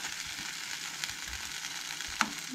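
Cauliflower frying in a pan while being crisped a little longer for a Goan dal and veg thali meal, a soft continuous sizzle with a single sharp tap near the end.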